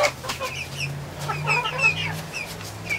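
Hens clucking in short, overlapping calls, close by, over a low steady hum in the background.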